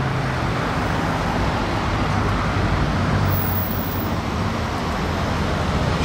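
Mercedes G-Class 4x4 passing in Monaco traffic, a loud, steady engine and road roar among other vehicles, constant throughout with no clear pass-by peak.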